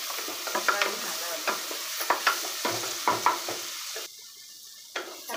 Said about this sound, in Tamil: தக்காளியும் நல்லா வதக்கி வச்சு